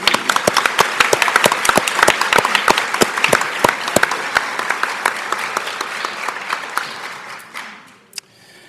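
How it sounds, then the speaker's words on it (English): A school board meeting audience applauds a middle school saxophone ensemble with steady, dense clapping from a moderate-sized crowd, loud and close, fading out over the last seconds before a single sharp knock. "Let's give them a round of applause."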